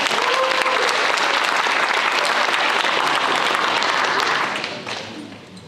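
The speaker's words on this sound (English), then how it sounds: "Give her another round of applause." A full round of applause from an audience at a high school National Signing Day ceremony, dense and steady, then fading toward the end.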